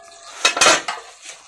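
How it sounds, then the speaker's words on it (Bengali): A metal lid lifted off a cooking pot of Bengali egg curry, a brief clatter of metal on metal, a couple of close clinks, with no voices. "দেখুন এবার ঢাকনাটা উঠিয়ে দেখি কেমন হয়েছে।"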